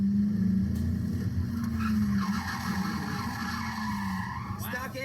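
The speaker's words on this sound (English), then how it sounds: "Then we switched things up, and Adam took her for a ride around the track" A drift car slides around a race track, its tires skidding and squealing in long sustained smears over a steady engine drone, heard from inside or close by with some talking.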